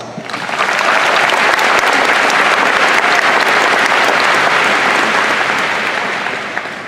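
Sustained, loud audience applause for parents at a high school graduation ceremony, rising quickly and holding as an even wash of many hands before tapering slightly at the end.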